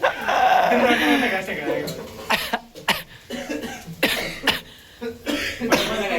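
Several sharp coughs burst out in quick succession, loud and close, with voices talking around them.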